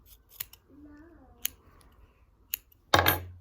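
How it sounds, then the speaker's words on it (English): Scissors snip through quilt binding fabric in a few sharp, close cuts, with one louder final snip near the end and faint background sounds between them. "I'm going to cut this off at about 1/4 inch."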